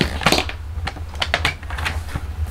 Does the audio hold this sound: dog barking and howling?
no